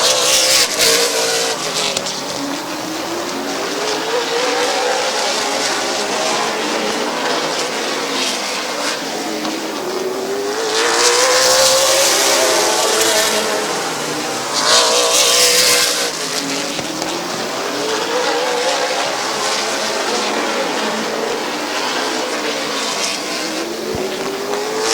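Race cars roaring around Midvale Speedway, engines rising and falling in repeated passing swells, with louder surges as the pack sweeps by; no talking heard.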